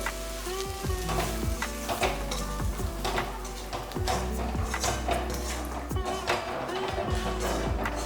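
Spice mix for mutton curry sizzles steadily in a hot pan while a utensil scrapes and taps against the metal in irregular strokes.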